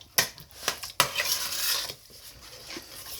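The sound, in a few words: stirring fish biryani masala in a pot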